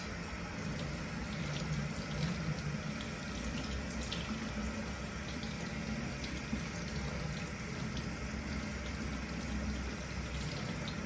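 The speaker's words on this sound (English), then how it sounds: "I'm going to want to rinse distal at my fingertips to proximal at my elbows" Water runs steadily from a tap as arms are rinsed from fingertips to elbows during surgical-style hand washing, a continuous close hiss and splash with no speech.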